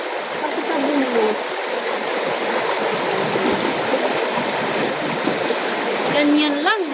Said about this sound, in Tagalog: hugasan mo na, banlawan mo na, para matatapos na yung pagsasabon mo